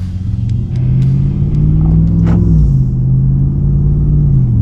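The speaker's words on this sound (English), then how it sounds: "it has a full, deep exhaust note coming from the back of the vehicle" A RAM 1500 TRX pickup with a performance mid pipe exhaust cruising at mild city speed, a loud, deep, steady droning rumble heard from inside with slight pitch shifts as the engine eases, plus faint ticks.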